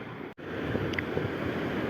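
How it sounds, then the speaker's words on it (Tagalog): Sea waves wash along a fishing shore as the swell builds, a continuous rushing surf mixed with wind noise, with a brief dropout near the start. "So, ayan, nalalaki ng alon, no?"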